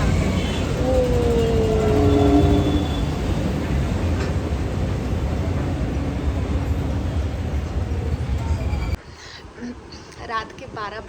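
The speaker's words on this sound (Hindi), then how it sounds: "ये रेलवे स्टेशन है" Steady loud rumble and squeal of a train at a railway station, with a long screeching wheel tone early on, continuous for most of the clip before cutting to a quieter scene.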